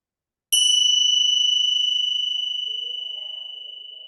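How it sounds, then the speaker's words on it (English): A meditation bell is struck once at the start of practice, ringing out with a clear, bright tone after a moment of silence and slowly fading in a long, shimmering sustain. "I'm going to ring the bell at the beginning and at the end of practice."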